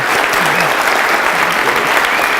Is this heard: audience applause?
yes